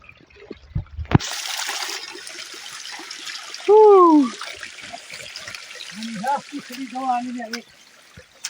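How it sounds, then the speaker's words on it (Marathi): Water rushes steadily down stone steps on Kalsubai peak, flowing and splashing continuously, with a few voices speaking briefly over it. "हेच ते म्हणजे पायऱ्यावरून पाणी वाहणार आहे"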